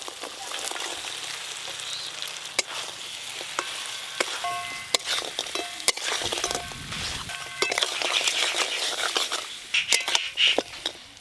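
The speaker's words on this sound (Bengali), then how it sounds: "এবার ভেজে রাখা কাঁকড়া আর বেগুন একসঙ্গেই দিয়ে দেব।" Fried crab pieces and eggplant tipped into masala already sizzling in oil, then stirred. A steady close frying hiss runs throughout, with scattered clinks and scrapes of a spoon against the pan.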